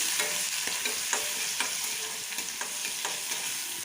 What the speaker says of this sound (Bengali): এখন এটা একটু লাল করে ভেজে নিই